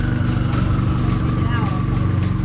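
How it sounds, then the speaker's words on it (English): A car with a loud aftermarket exhaust runs with a deep, steady rumble, close and loud throughout the short stretch, with voices faintly present. "with his loud exhaust,"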